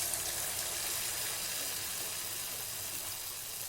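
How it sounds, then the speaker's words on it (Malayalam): Heavy rain falls outside during home cooking, a steady, even wash of broadband hiss with no breaks, moderately quiet and continuous throughout. "ഭയങ്കര മഴ, അതാണ് ഈ മഴയുടെ സൗണ്ട്"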